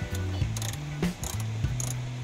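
A socket ratchet wrench turns a 7mm bolt while working on a Cadillac Escalade radio navigation display. Close, clicking ratchet strokes repeat in short bursts with brief pauses between them, and no one speaks.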